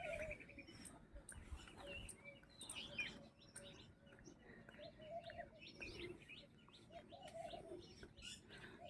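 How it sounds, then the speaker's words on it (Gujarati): Sparrows chirp repeatedly around a village hillside path on a morning walk, a busy mix of short tweets near and far over steady outdoor background noise. "ચકલા બોલી રહ્યા છે"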